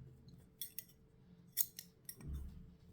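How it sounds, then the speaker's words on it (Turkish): Scissors snip through nylon fishing line for a bottom-fishing rig, a few quiet, close crisp clicks spread over a couple of seconds. "Şu şekilde bedenimizi de 70 santim kadar şuradan kesiyorum."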